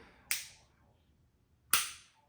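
A safe, unloaded Glock pistol dry-fires twice, each firing pin strike a sharp, close metallic snap with a short decaying ring, about a second and a half apart, in a quiet room without talk.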